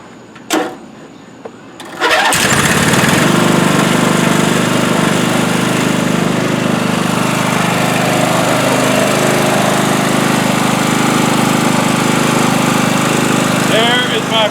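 Craftsman riding lawn mower engine, small gasoline motor, cranks over after a couple of clicks and then runs steadily and loudly up close for the rest of the clip.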